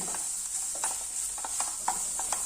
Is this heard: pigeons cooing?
no